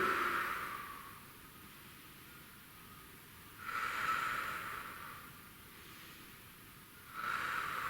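Deep breathing during a floor mobility stretch, head held low toward the floor: slow, airy inhales and exhales come close and clear in about three unhurried waves, with quiet pauses between.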